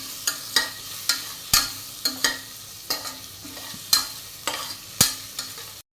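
Ginger and garlic frying in a pan for an egg curry in coconut milk, with a quiet sizzle underneath and a regular series of crisp spatula scrapes and taps roughly every half second.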